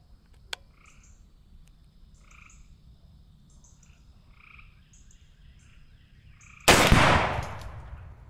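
A Firebird exploding target detonates with a sudden loud boom that decays over about a second, after a stretch of outdoor frog croaking and one sharp distant crack.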